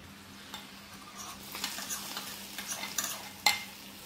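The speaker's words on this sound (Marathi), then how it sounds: "आता आपण जी फोडणी तयार केली लसणाची ती घालत आहे" Soft sizzling as hot garlic tempering hits cooked spinach, with scattered stirring clinks and scrapes of a utensil against the pan, fairly quiet and close.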